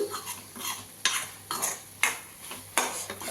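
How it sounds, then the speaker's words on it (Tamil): Prawn thokku sautéed with mint and coriander leaves, a spoon scraping the pan in four or five sharp, evenly spaced strokes over a low background sizzle, close and without speech. "புதினா மல்லிக்கீரை போட்டாச்சு. நல்லா வதக்கிட்டு"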